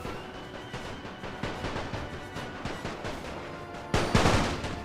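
Machine gun fire from a World War I strategy game set on the Serbian front: a dense, continuous crackle of rapid shots at steady loudness, with a sharper, louder burst near the end.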